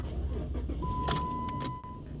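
A used car with 100,000 miles is started at an auction, with clicks, a key-turn whir and a brief starter tone rising as the engine catches, heard close and fairly quiet with no talk.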